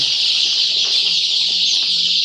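A dense chorus of many Andijan black chicks, about 2000, cheeping high and continuously, close by and loud, with no pauses.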